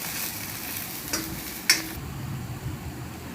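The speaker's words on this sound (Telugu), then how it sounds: "1 టేబుల్ స్పూన్ ధనియాల పొడి, ఇలా ఫ్రై చేసుకోవాలి." Coriander powder and a dried coconut paste frying in a pan give a constant sizzle, with a couple of brief stirring clinks near the middle before the hiss softens.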